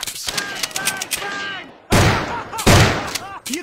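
Bursts of Kitchen Gun fire in a Roblox video game, with rapid shots early on and then two loud, heavy blasts, mixed with an energetic voice talking between and over them.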